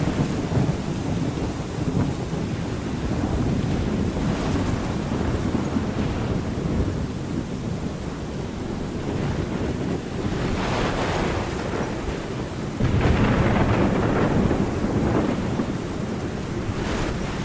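A heavy thunderstorm with steady rain, low rolling thunder rumbling repeatedly beneath a constant wash of rainfall, with stronger bursts around the middle and near the end, and no voices.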